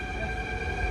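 A Delhi metro train runs in a steady, even rumble with sustained tonal hums, heard from inside the car and moderately loud.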